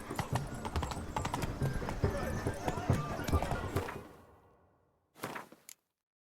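Roach, the horse in The Witcher 3: Wild Hunt, clip-clops along in the game at a steady trot with a short whinny-like burst, then the hoofbeats fade out before a brief final flurry.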